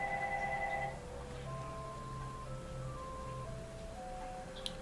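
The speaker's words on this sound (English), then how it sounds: "the phone just doesn't want to not ring, does it?" A telephone rings in a quiet room, playing a repeating electronic tone melody that carries on steadily throughout.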